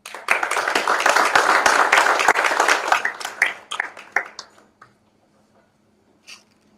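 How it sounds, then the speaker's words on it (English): An audience claps for the mayor at a handover event for the Transformative River Management Programme: a few seconds of lively applause from a mid-sized crowd, thinning to scattered claps and then quiet. "Let's give a round of applause to our mayor."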